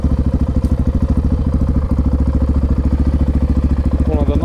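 A Honda XR650R four-stroke single-cylinder motorcycle engine runs steadily up close, a loud, even thumping throb that holds for the whole stretch with a faint higher whine creeping in near the end.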